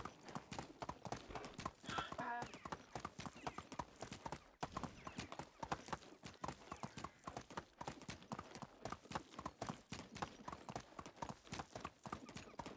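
A donkey's hooves clip-clop in a steady, rapid walking rhythm through the medieval farm setting of the game Medieval Dynasty, continuous and fairly close, with no voices on top.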